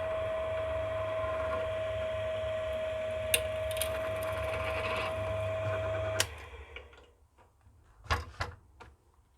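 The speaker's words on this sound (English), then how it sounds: "Just going to drill through now." An electric drill with a small 3 mm bit works through a metal bracket meant to hold a phone holder in a Ford Focus C-MAX, a steady close motor whine with faint clicks, ending abruptly after six seconds, then scattered handling knocks.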